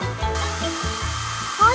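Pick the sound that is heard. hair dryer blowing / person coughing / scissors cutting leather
hair dryer blowing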